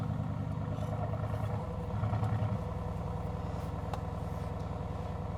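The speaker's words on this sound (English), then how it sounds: "it's a keyless start. Engine button pressed." A Mercedes-AMG GT S runs after a keyless push-button start, settling into a deep, steady idle rumble up close. Brief swells in the engine note come and go before it holds an even burble.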